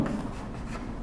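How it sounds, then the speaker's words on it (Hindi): Marker or chalk writing on a board during a chemistry lecture, a steady close scratchy stroke running about a second with no talk over it. "तो मैं लिखता हूं"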